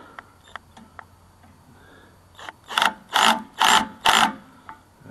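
Torque wrench tightening bolts in a cramped space, a few faint ticks followed by four loud rhythmic ratcheting bursts close by, with no talking.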